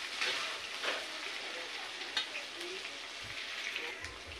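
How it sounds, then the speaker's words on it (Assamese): Crushed ginger, garlic and a torn bay leaf fry in oil in a pan with a soft, steady sizzle and hiss, fairly quiet, with faint crackles and an occasional stir. "এইখিনি কেঁচা গোন্ধ নোযোৱালৈকে ভালকৈ মই ভাজি থাকিম।"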